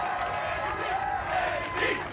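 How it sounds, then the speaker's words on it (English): Crowd noise at an American Ninja Warrior event, a continuous wash of cheering and shouting voices from a large audience, steady and fairly loud throughout. "There's such great energy from the crowd, all of them behind her."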